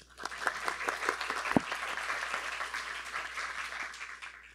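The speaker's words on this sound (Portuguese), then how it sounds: "uma salva de palmas" An audience at a meeting with mayoral candidates on climate in Natal breaks into applause, individual claps distinct at first, building into a dense, moderately quiet round that tapers slightly toward the end.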